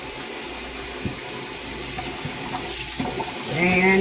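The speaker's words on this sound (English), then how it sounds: "rinse out my spoon" Water runs steadily from a kitchen tap while a spoon is rinsed under it, a close and fairly loud rushing splash that swells near the end, with a brief word spoken over it.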